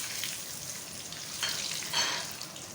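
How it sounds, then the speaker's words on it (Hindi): Golden onions fry in a pot with whole spices including cloves, black and green cardamom, cumin and black peppercorns, giving a soft continuous sizzle with a couple of louder stirring scrapes. "हो गए हमारे गोल्डन प्याज अच्छी तरह से फ्राई।"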